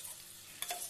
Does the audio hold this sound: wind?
no